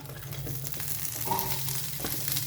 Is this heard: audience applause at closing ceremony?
no